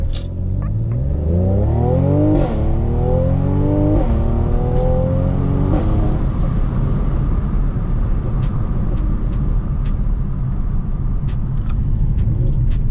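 A car launches hard from 0 to 60 mph in a Renntech versus Eurocharged comparison, its loud engine climbing through rising revs with gear shifts, then settling into a sustained roar with road and wind noise.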